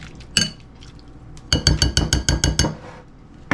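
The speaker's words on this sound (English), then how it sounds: "I'm going to grab a spoon, I think, to stir this up with" A metal spoon clinks rapidly against the sides of a bowl while stirring a mixture with mustard, a quick rhythmic burst of about ten ringing taps after an isolated knock, nearby and clear.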